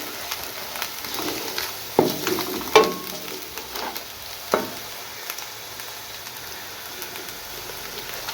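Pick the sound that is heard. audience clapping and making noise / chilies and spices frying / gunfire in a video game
chilies and spices frying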